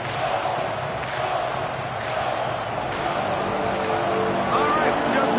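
A stadium crowd in the football video game Madden NFL 25, Indianapolis Colts against Minnesota Vikings, makes a steady, fairly loud roar of cheering that swells slightly toward the end.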